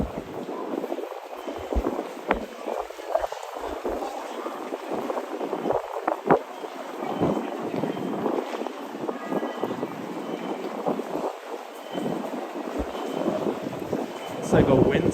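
Strong wind gusts through a Tokyo street, rumbling against the microphone in uneven surges with faint background street noise.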